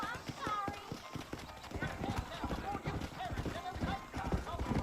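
Horse hooves clip-clopping in the video game Red Dead Redemption, a quick steady rhythm of hoofbeats heard up close, with speech over it.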